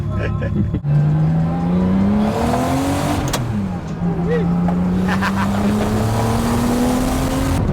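A turbocharged car with old-school boost accelerates hard and close, its engine note climbing steadily through gears in one long rising pull, with a brief dip before the boost surges again; people talk over it at times.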